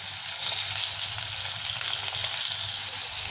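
Hog plums frying with spices in a pan for a Bengali masoor dal, giving a steady, even sizzle with faint stirring, close and continuous with no voices.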